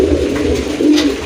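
Pigeons at a bird seller's coo loudly and close, a couple of rolling low calls in quick succession.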